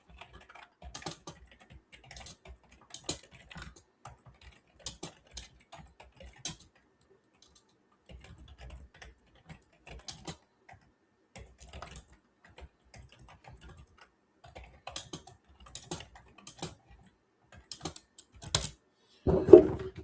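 Computer keyboard keys clatter in irregular bursts of close clicks with short pauses between runs, and a louder knock lands near the end; no voices.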